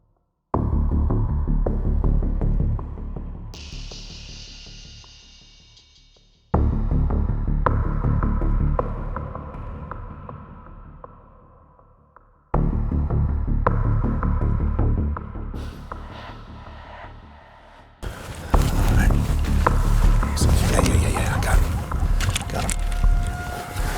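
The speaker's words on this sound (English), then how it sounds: "This wind is really causing us fits." Strong wind on an Eastern Cape African safari roars as a heavy low rumble buffeting the microphone, in several loud segments separated by abrupt cuts.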